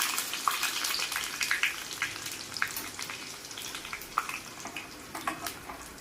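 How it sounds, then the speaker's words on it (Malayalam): Cashew nuts sizzling in hot oil for a prawn biryani, a steady crackling fry with frequent sharp pops and spits, close and fairly quiet, with no voices. "അപ്പം ഇനി നമ്മുടെ അണ്ടിപ്പരിപ്പ് മാത്രം ഒന്ന് ഫ്രൈ ആയിട്ട് വരട്ടെ"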